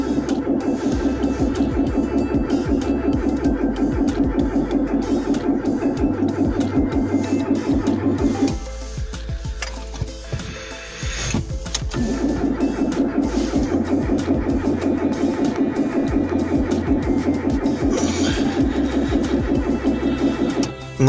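A Renault Scenic II petrol engine cranks repeatedly at -20°C without catching, the starter grinding in a loud, rapid rhythm that pauses for a few seconds midway and then resumes for another long stretch.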